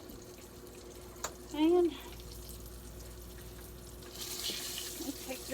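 Running tap water swells near the end as dough is rinsed off the hands while making fried green tomatoes, a soft close splash that follows a short spoken word and a brief tonal squeak.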